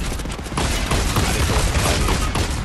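Dense, continuous gunfire from a Fortnite match, rapid overlapping shots with booming low thuds running the whole time, loud and close, with no talking over it.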